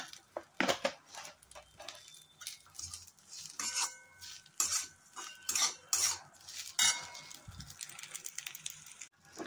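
A spoon scrapes and clatters against a pan while masala, okra (bhindi) and salt are mixed together, with a quick, irregular run of close metallic taps and rubs.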